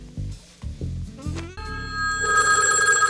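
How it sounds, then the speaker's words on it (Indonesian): A telephone bell rings loudly and insistently, following a few heavy thuds, its bright repeated ringing filling the second half. "Sesaat kemudian telepon berbunyi dan membangunkannya."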